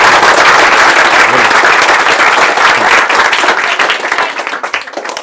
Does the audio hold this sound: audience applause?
yes